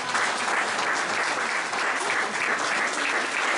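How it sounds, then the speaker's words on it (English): A room of guests at an evening book launch applauds the author, a continuous, even patter of many hands clapping for several seconds, moderately loud with no talk over it. "everyone give her a round of applause"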